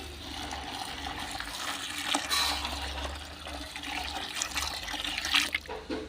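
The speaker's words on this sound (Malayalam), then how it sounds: "അപ്പോൾ ഇത് മുങ്ങാൻ ഭാഗത്തിന് നമുക്ക് കുറച്ച് വെള്ളം ഒഴിച്ച് കൊടുക്കുക" About a litre of water is poured into a container of groundnut cake mix, making a steady gushing, splashing pour that runs throughout with a few louder surges; no voices.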